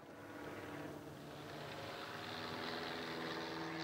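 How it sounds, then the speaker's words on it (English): de Havilland DHC-1 Chipmunk propeller aircraft flying at an air show, a faint distant engine drone that swells slightly as it nears. "welcome Ralph Sachs to the show as he put one of the Chipmunks through its paces and demonstrated that the type really is a superb performer"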